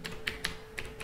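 Light keystrokes on a computer keyboard while entering text in InPage, four or five quiet, evenly spaced taps over a faint steady hum.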